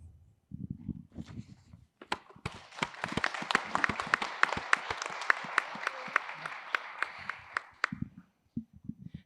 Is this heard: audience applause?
yes